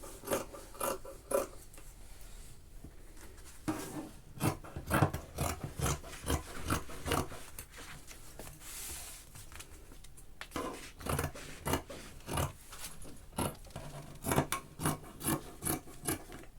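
Scissors cut through sweatshirt fleece to form the back piece of a pair of sweatpants, giving a run of close, crisp snipping and rasping strokes in an uneven rhythm, with no talk.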